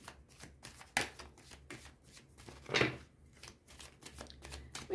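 Tarot cards being shuffled by hand, crisp papery riffles and flicks coming in uneven bursts with a few sharper slaps, close and fairly quiet with no talking.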